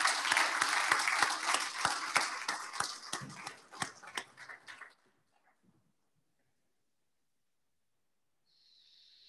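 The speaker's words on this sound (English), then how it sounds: "Why didn't we have a round of applause actually for everyone's questions and talks?" Lecture audience at a foot and ankle talk gives a round of applause, dense clapping that thins into a few last claps and stops about halfway, followed by near silence and a faint hiss at the end.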